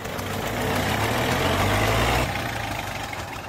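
A Kubota 4x4 tractor engine pulling a rotavator in a field labours loudly and steadily, then drops off abruptly as it stalls partway through.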